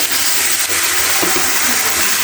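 Figs fry over low heat in a hot pan, a loud, continuous, close-up sizzle and hiss with a few faint clinks partway through.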